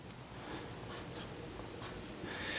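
A pencil tracing over a shape on tracing paper, faint dry scratchy strokes in short bursts with quiet pauses, close up and alone.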